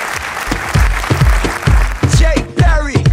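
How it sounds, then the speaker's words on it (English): An audience applauds preschool children on stage at a Strawberry Kids Preschool performance in Patiala, with clapping under loud, rhythmic thumping music that has a tonal melody over it. "Give a huge round of applause for these little kids"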